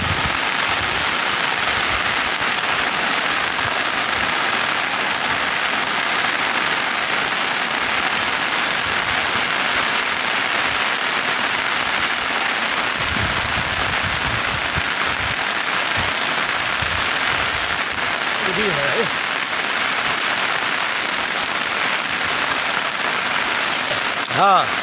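Light drizzle falls steadily during net fishing by a river after a broken dam, a constant even hiss of rain with a faint voice briefly in the background.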